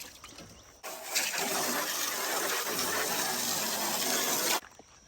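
Fresh water for farm animals gushes out of a hose or tap in a sudden loud steady stream that runs for several seconds, then cuts off abruptly.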